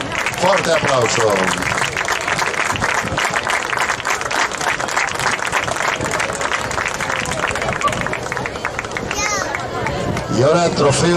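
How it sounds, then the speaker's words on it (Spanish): A lively crowd claps and cheers during a beach handball trophy presentation in Moaña, dense continuous applause mixed with babble and an announcer's amplified voice over the top. "Fuerte aplauso."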